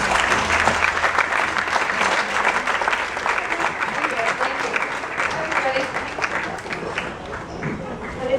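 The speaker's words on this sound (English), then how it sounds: "I wanted to give another round of applause to the Leopard Club winner," A festival audience at Locarno applauds Meg Ryan, steady sustained clapping from a large crowd, with some talk mixed in.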